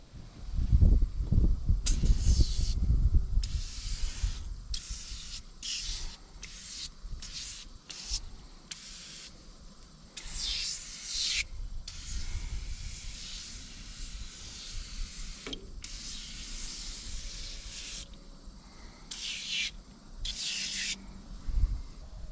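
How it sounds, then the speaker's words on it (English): Super Clean degreaser hisses from an aerosol can onto a grimy engine cylinder in a run of close spray bursts, some short and some longer, separated by brief pauses. Rumbling handling noise comes before the first bursts. "Why don't we try the aerosol can and see how it works?"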